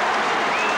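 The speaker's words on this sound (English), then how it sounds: "Listen to the crowd." Crowd at a 1981 VFL Australian football match between Hawthorn and Collingwood, a loud sustained roar of cheering and applause in one brief burst.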